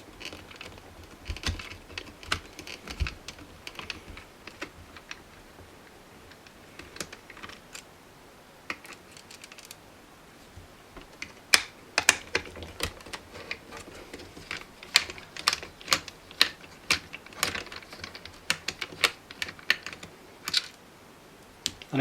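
Screws being taken out of the plastic housing of a Teddy Ruxpin toy, a string of small clicks, ticks and light plastic taps close by, irregular and sparse at first and then busier.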